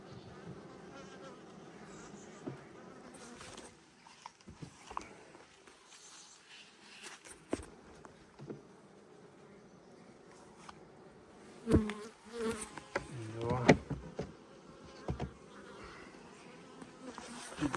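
Bees hum steadily around an open hive while frames are slid back in, with soft wooden knocks and scrapes breaking through the buzzing now and then.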